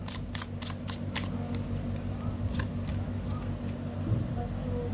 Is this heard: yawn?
no